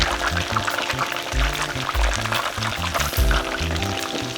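Meat deep-fries in hot oil until golden, a continuous bubbling sizzle with low churning pulses from the oil, close and fairly loud, with no voices.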